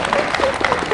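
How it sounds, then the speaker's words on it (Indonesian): An audience at an Indonesian community event applauds in a short burst of close, fairly loud clapping, with a voice briefly audible within it. "Kita tepuk tangan."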